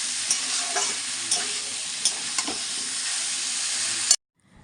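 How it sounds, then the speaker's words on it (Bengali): Paneer, potato and tomato curry sizzles and fries steadily in a pan with a few scraping stirs of a spatula, continuous and close, cutting off abruptly near the end. "পনির, আলু, টমেটো সব দিয়ে এখন কষানো চলছে"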